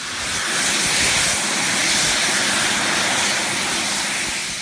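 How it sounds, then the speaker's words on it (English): Small jet engines mounted on a person's arms run at full power with a loud, steady, broadband roar and hiss that holds evenly for several seconds, close and unbroken. "he turns them on, and you see the immense power of these engines"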